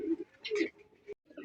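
A pair of native Bombay pigeons coo in short, low, throaty bursts, close and fairly quiet, with small breaks between calls.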